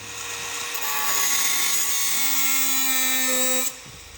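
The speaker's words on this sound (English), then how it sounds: "So we gotta break out the angle grinder." An angle grinder cutting through a metal TV wall mount, a loud sustained high-pitched whine that holds for about three seconds before abruptly cutting off.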